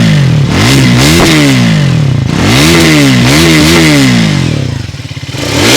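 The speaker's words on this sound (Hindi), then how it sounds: "अब मैं इसका एग्जॉस्ट थोड़ा सा सुनाता हूँ आपको।" Triumph Thruxton 400 motorcycle exhaust revving loud and close, with several sharp throttle blips that rise and fall in pitch, dropping back to a rumbling idle between them.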